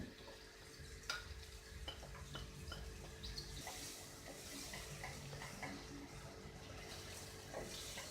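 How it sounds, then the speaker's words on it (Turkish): Chopped medium onion frying in melted butter in a pan for Turkish lentil soup, giving a steady low sizzle with occasional stirring clicks and scrapes, moderately quiet and close, with no talking. "Soğanımızı pembeleşinceye kadar tereyağında kavuruyorum."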